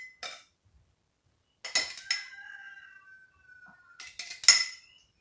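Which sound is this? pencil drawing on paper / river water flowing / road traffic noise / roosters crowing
roosters crowing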